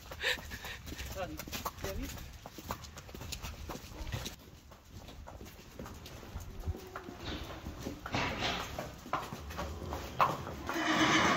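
A Friesian horse's hooves clip-clop irregularly on a hard surface while people talk nearby, with some shuffling and rustling in between.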